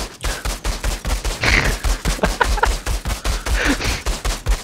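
Rapid, loud bursts of automatic gunfire from the shooter game Outriders, evenly paced shots stacked into a continuous barrage from up close.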